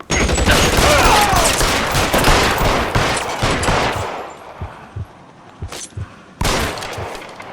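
Gunfire in L.A. Noire, a dense, loud burst of rapid shots during a police shootout at 1452 North Las Palmas that thins into scattered single shots, with one last sharp crack near the end.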